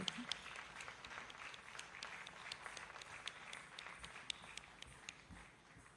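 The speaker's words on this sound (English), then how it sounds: "A huge round of applause for him." Sparse, faint audience clapping at a Bharatanatyam arangetram after a gratitude token is presented, with individual claps spread across the hall and low chatter underneath throughout.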